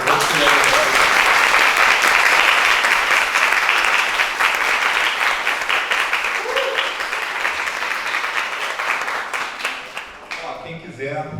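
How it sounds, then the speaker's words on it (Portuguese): An audience at a university extension talk on the creative process gives a long, loud round of applause that gradually fades out, with voices emerging at the very end. "E as palmas, né?"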